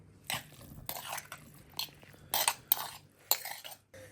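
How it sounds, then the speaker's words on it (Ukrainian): Wheat grain is tipped into a makitra clay bowl while making kutia, giving a handful of short, crisp rattling pours at uneven intervals, close and clear with no talking. "Відправляємо сюди пшеницю в макітру."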